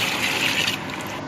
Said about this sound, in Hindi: अब इसके अंदर आप ऐड करेंगे यखनी।